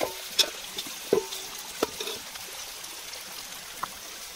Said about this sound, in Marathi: हे बघा आलं लसूण पेस्ट भाजायला ना.